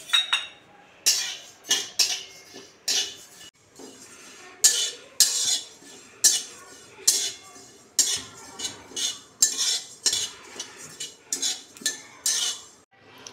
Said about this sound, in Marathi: धन्यानंतर आपण जिरे भाजून घेऊया